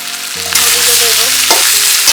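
Green chili, ginger and a pinch of sugar drop into hot oil in a pan, setting off a loud burst of sizzling and frying that stays bright and steady, with a brief stirring knock near the end.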